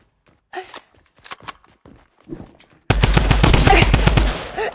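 Rapid Tommy gun fire in Fortnite, a loud sustained burst of automatic shots following a few scattered quieter sounds and breaths.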